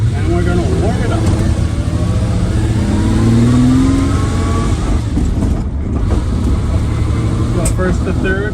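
A 1950 Ferrari 195 Inter bodied by Vignale runs as it warms up, a loud steady engine drone with revs swelling midway, heard from the passenger seat with talk over it.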